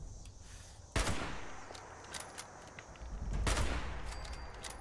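Gunfire in the video game Fallout 76: two sharp, loud bursts about two and a half seconds apart, the second longer and rolling, over a quieter bed of scattered distant shots.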